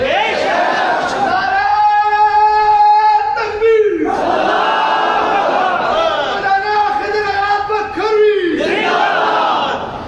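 A large gathering at a religious speech in Pakistan erupts into loud, rhythmic chanting of slogans, two sustained waves of many voices shouting together, close and dominant.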